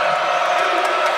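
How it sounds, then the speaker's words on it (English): Crowd noise from a college basketball arena during a North Carolina vs NC State game, a steady loud roar of cheering and whooping that holds for the whole moment without a break. "when he gets going, this crowd really reacts to him"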